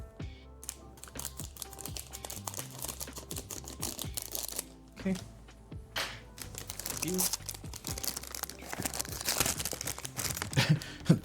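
Plastic packaging on an Ultra Pro deck box being cut and torn open with tiny scissors: close crinkling, snipping clicks and rustles, quiet and irregular, with a brief spoken word.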